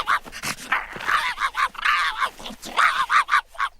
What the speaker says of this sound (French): C'est exactement sa façon d'aboyer quand il voit des écureuils!